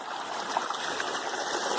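A shallow creek running where it flattens out midway along its course, giving a steady, close rush and trickle of water with no voices.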